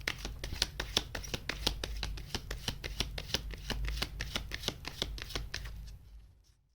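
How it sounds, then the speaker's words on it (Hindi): Tarot cards riffled in a steady rapid run of crisp flicks, close and fairly loud, continuing for about six seconds before cutting to near silence. "एक शफल और करते हैं।"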